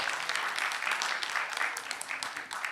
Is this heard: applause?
yes